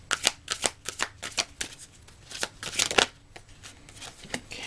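Oracle cards from the Shadow and Light Oracle deck are shuffled by hand, producing quick, close, crisp riffling bursts in an uneven rhythm, with no talking.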